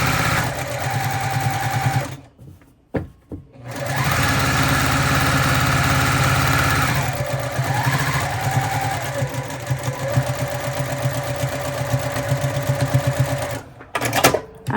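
A sewing machine stitches a tote bag seam in steady whirring runs, stopping briefly a few times before starting again, loud and close with no talking.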